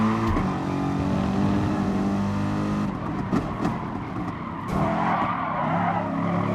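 A race car in a racing video game is struck from behind: steady engine roar with tires skidding and squealing, a short jolt partway through, then the motor keeps droning loudly.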